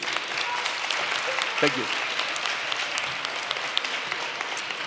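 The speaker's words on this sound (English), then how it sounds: "Give him a round of applause, please." Steady applause from a science festival audience fills the whole stretch, with a brief spoken thanks partway through.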